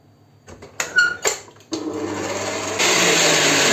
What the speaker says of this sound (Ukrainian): До білків даємо щіпку солі. Отаку. І збиваємо.